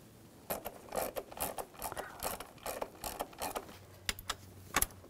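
A screw is started into a camshaft position sensor on a 2006-2010 BMW 550i 4.8L V8. Quiet, close ratcheting clicks come in quick irregular bursts, with no voices.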